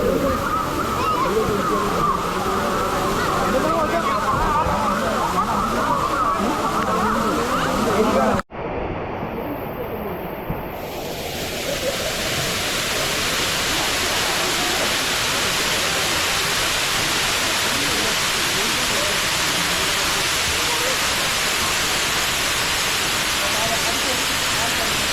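Rushing water at Areekal waterfall roars in a loud, steady wash, interrupted by a momentary break before the continuous torrent resumes.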